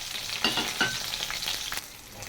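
Small halved onions and whole spices with chillies fry in oil in a pan, giving a steady close sizzle and crackle with light stirring scrapes and no voices.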